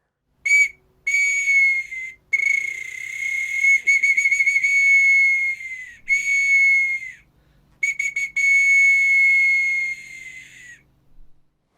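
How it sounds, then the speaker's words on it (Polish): A shrill, steady whistle made from an antler tip is blown repeatedly, with long tones and quick fluttering trills, loud and close, separated by short silences. "z końcówki też można wykonać taki gwizdek"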